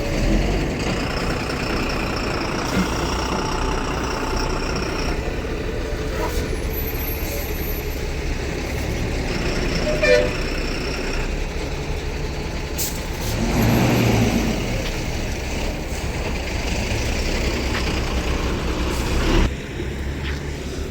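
A KSRTC bus arriving at the busy Honnali bus stand, its diesel engine rumbling and revving steadily with a swell of engine noise midway and an air-brake hiss, set against constant background station bustle; no horn stands out.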